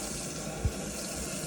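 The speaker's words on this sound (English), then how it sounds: "you can hear the water filling up via the soap tray" LG washing machine filling with water through the soap tray, a steady rushing hiss of water running for the whole stretch, with a single soft thump partway through and no talking.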